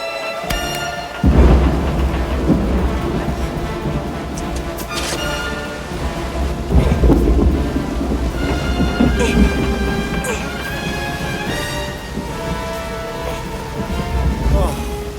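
Heavy rain falls through a film scene while low thunder rolls and rumbles beneath it, steady and dense throughout, with brief louder swells.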